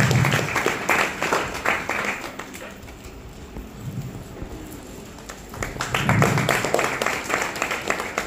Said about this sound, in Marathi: सगळ्यांनी जोरदार टाळ्या वाजवायच्या आहेत